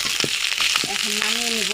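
Sea fish fries crisp as jhuri bhaja in a pan with a continuous bright sizzle and light crackle, while a voice speaks over it.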